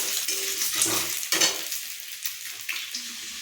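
Eggs and potatoes fry in a pan with a close, bright sizzle, broken by a few scraping stirs and soft utensil knocks over about three seconds.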